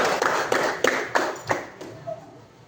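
Schoolchildren in a seventh-grade coding class clap together in a short round of about six distinct, fairly loud claps that quickly fade, followed by a faint voice.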